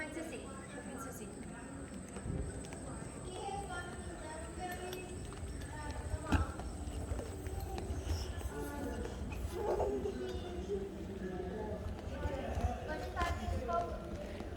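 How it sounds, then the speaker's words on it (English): Hooves of a donkey clip-clopping as it walks at a national historic trails interpretive center, a steady run of clops close by with talking voices over and around them. "That's a donkey."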